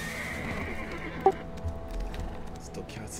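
A horse in the online game Black Desert Online gives a short, faint whinny amid a game soundscape of soft hoof clops and low ambient music.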